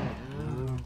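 A cow in Minecraft gives one drawn-out, fairly loud moo with a slightly falling pitch, heard clearly on its own.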